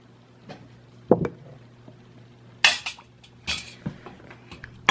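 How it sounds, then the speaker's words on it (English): A spoon stirring honey and lemon juice into hibiscus tea: a few sharp clinks and scrapes against the container, spaced irregularly over a quiet background hum. "You want to make sure that you just stir it up really good"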